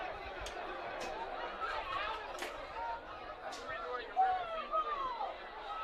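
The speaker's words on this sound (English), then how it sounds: "Rose-Hulman crowd not liking that call at all." Spectators at a college Division III conference championship football game, Rose-Hulman, murmur and grumble as a steady, fairly distant crowd hubbub with scattered sharper outbursts.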